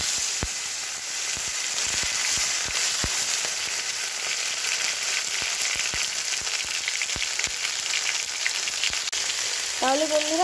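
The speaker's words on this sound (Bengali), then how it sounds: "কেটে রাখা টমেটোগুলো দিয়ে দিই।" Chopped tomatoes go into hot fish oil with cumin and dried chilli while cooking a pabda fish curry, and a steady, loud sizzle and crackle of frying runs throughout, with a few sharp spatters and a brief clink near the end.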